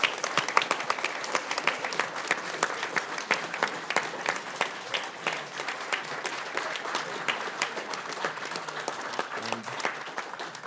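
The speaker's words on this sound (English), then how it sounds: "Let's give all of them a round of applause," Audience applause at a charity speedrun marathon finale, a dense, steady wash of many hands clapping that continues for the whole stretch, close and lively, with no talk over it.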